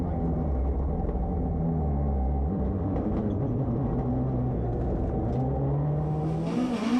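Rally car of Frank Bird and Jack Morton driving a wet Oulton Park stage, a steady loud engine rumble with shifting revs throughout and a slight rise near the end.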